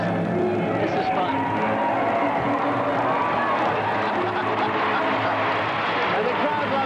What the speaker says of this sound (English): And the crowd loves it.